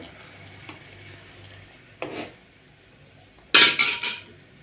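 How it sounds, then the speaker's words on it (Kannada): Masoor dal rasam is ladled into a serving bowl: faint metallic taps, then a short knock, and finally a louder quick cluster of clinks of spoon against metal dishes, close by. "ಇದನ್ನೊಂದು ನಿಮಗೆ ಸರ್ವಿಂಗ್ ಬೌಲಿಗೆ ಹಾಕಿ ತೋರಿಸ್ತೇನೆ."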